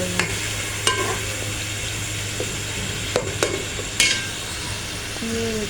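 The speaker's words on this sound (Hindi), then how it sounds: "अदरक लहसुन वगैरह फ्राई कर लेती हूँ। फ्राई कर रही हूँ।" Ginger and garlic fry in a pan while preparing desi-style chicken liver and gizzards, a steady sizzle running throughout with sharp scrape-and-clack stirring strokes of a spoon against the pan, fairly loud and close, no voices.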